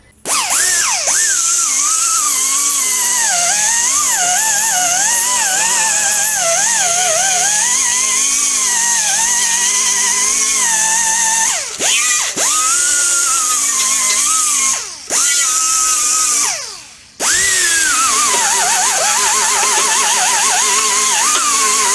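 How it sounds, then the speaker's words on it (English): A loud, continuous whine of an angle grinder wheel stripping heavy rust from the door of a 1966 Ford Mustang Fastback, with pitch wavering under load and a few short breaks near the end; no speech. "you saw me use this wheel right here. It's for removing rust"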